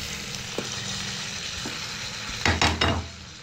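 Peas and cabbage being stirred in a pan over a soft frying hiss, with a couple of light taps and then a short burst of louder scraping near the end, no one talking.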